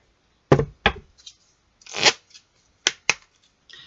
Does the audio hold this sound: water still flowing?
no